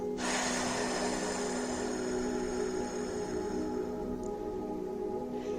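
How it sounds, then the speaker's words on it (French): A long exhalation through the mouth during guided meditation gives a breathy rush of air that starts abruptly, lasts about four seconds and fades, over soft, sustained background music. "on expire par la bouche"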